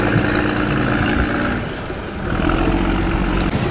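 A Cummins diesel engine aboard a Vietnamese fishing boat at a fishing port rumbles steadily and loudly, a continuous low throbbing drone with no speech over it.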